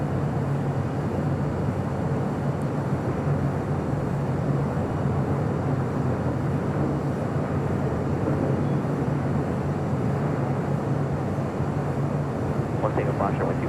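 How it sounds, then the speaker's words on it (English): A Turkish Airlines 787-9 Dreamliner arriving at LAX produces a steady, broad engine rumble and roar that holds evenly throughout, heard from a distance under a talking voice. "Next arrival on the north side is Turkish Airlines Flight 179 coming in from Istanbul in a 787-9 Dreamliner."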